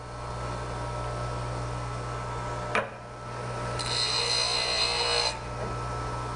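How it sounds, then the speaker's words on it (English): A bench grinder hums steadily while a woodturning tool held in a grinding jig is lightly touched to the wheel, giving a brief sharp contact and then a longer hissing grind that fades as it is pulled away. "turn the grinder on and just lightly touch the tool to the wheel"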